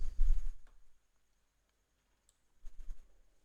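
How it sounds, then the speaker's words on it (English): Two soft, dull computer mouse clicks sound a couple of seconds apart in a quiet room, with no talking. "Okay, let me click on it."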